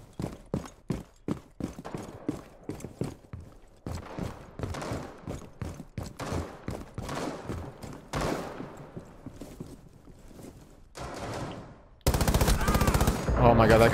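Rapid gunfire from a firearm in Rainbow Six Siege, loud, close bursts of sharp shots in quick succession, with brief pauses between volleys and a dense final stretch of continuous shooting.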